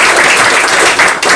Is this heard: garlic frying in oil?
no